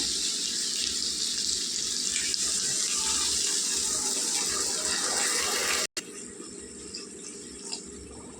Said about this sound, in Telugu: ఇప్పుడు ఇందులో నీళ్ళు వేసుకుందాం